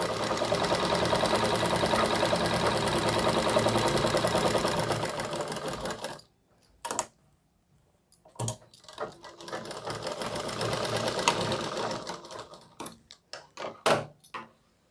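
A sewing machine runs steadily for about six seconds while stitching a collar suit, then stops and restarts in short bursts, with a few clicks and handling noises between runs.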